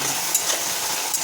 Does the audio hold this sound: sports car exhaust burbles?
no